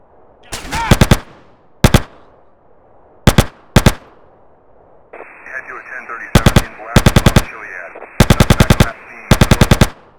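Gunfire in Grand Theft Auto: San Andreas during a countryside mission against guards around a house: loud, close bursts of automatic shots in short clusters, growing more frequent toward the end over a steady background tone.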